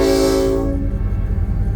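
A locomotive horn blasts loud and steady for about three quarters of a second, then cuts off, leaving the low, constant rumble of the idling diesel engine of the Southern locomotive.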